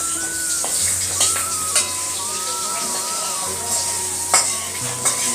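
Food sizzles in a hot pan with a steady hiss, broken by occasional sharp clinks and scrapes of a spoon stirring it. A faint tonal hum sits underneath, and no one talks.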